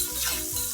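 Food sizzles and fries in a pan while it is stirred, giving a steady, close hiss without pause through the short moment.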